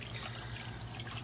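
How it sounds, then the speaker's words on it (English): Tank water splashes and trickles over aquarium filter media of activated carbon and ceramic rings, a steady close watery wash with no talk. "So we're getting the filter media wet with some tank water."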